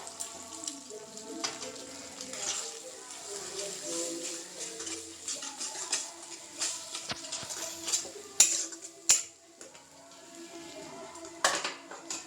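Three eggs being beaten in a bowl for a home-made chowmein, a steady run of light clinking and tapping of utensil against the bowl, fairly faint, with a few sharper knocks.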